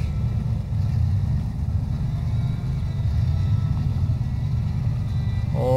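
A truck engine in the video game SnowRunner drones in a steady low roar while the truck is stuck climbing through mud, holding one even pitch with the throttle kept down and no talking.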